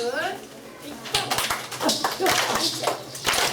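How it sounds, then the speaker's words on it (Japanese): Slow, evenly spaced hand claps from a group, crisp and fairly close, with a voice talking over the start. "じゃあ手拍子をゆっくりまずお願いします"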